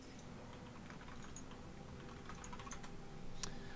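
Computer keyboard typing, quick irregular key clicks in short bursts, faint and close over a low background hum.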